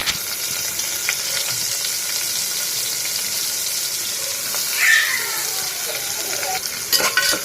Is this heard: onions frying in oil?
yes